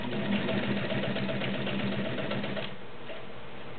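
A retro green and cream heavy-duty zigzag dressmaker sewing machine stitches through leather with a fast, even mechanical chatter that runs steadily, then drops to a quieter hum as it slows near the end.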